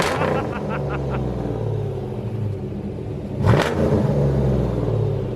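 A 1988 Ford Mustang with a resonator exhaust rumbles at idle, then revs loudly and sharply near the four-second mark before settling back to a steady, throaty idle close by, with people talking over it.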